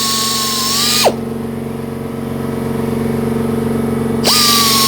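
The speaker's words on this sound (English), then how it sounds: "so it's just a case of drilling through without going through the canvas" A power drill whines at high speed drilling through chair upholstery foam, spins down to a low hum, then revs up again near the end, loud and close.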